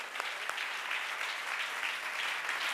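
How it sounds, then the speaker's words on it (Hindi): A church congregation claps loudly together, a dense even wash of many hands with a few sharper individual claps standing out, continuing steadily without voices over it. "जोर से ताली बजा के खुदा की महिमा करे।"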